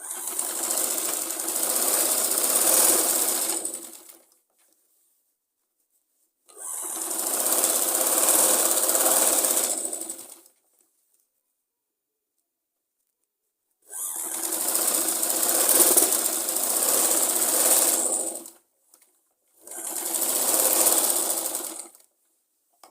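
A sewing machine stitches a Punjabi suit in four separate bursts of fast, close, buzzing rattle, each a few seconds long and divided by silent gaps, with no talking.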